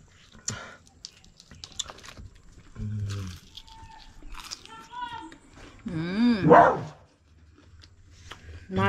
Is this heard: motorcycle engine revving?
no